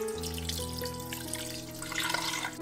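Water poured from a tap or glass into a pressure cooker holding marinated mutton for biryani, a close, steady splashing pour over a bright hum, swelling louder near the end.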